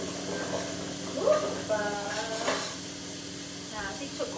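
Onions frying in a pan at home beside meatballs, a soft sizzle and hiss beneath occasional scrapes and clinks of a utensil stirring, with faint sounds of movement nearby.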